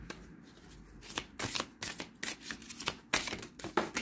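Oracle cards being shuffled by hand during a tarot-style love reading, giving repeated crisp riffling bursts and soft card slaps in an irregular rhythm, close and moderately loud with no talking.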